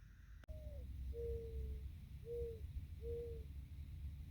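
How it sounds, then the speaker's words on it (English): Hooting owl or whippoorwill at night near an outdoor shooting site, four drawn-out calls in a slow, evenly spaced series, moderately close and clear above a steady low background rumble. "Is that a whippoorwill or an owl?"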